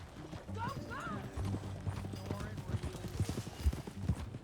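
Horse hooves clip-clop in a steady rhythm in the video game Red Dead Redemption 2, with a brief whinny early on, mixed with music and voices talking over it.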